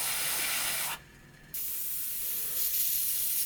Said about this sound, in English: So all of this is now just going to get sprayed underneath all white